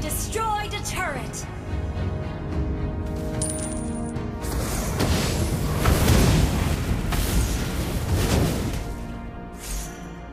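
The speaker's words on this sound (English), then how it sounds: "Your team destroyed a turret." A turret crumbling in Mobile Legends as a mage hero plays, a rolling crash and boom mixed with bright chimes, spell effects and dense game noise, with an announcer voice over it.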